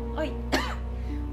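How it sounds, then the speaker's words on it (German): A single short cough from a German gamer during a let's-play session, close to the microphone over a steady background hum, followed by a brief vocal sound. "ich muss mal kurz husten"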